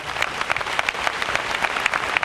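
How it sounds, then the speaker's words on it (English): A concert audience at a gospel quartet convention gives a round of applause, steady, dense clapping from a large crowd, even and sustained across the whole stretch with no speech on top. "You give Jerry a nice round of applause"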